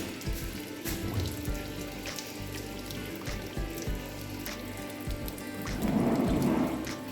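Water from a cleaned pump in a Voltas Grand 72 air cooler splashes and trickles steadily, close up, with a rain-like patter that swells louder toward the end.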